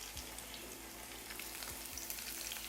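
Chopped ginger sizzling in hot oil in a pan, a steady soft crackle and hiss with a few sharper pops, fairly close, with no talking over it.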